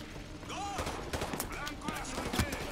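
Gunfire in the video game Call of Duty Modern Warfare 2, with scattered shots and short bursts crackling over busy game sound while a person talks.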